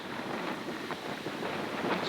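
Steady, loud wind on a Pennsylvania hilltop in autumn buffeting the microphone, a continuous broadband roar with gusty swells and no voices.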